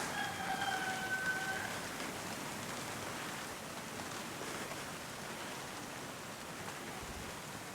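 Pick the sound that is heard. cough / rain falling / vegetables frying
rain falling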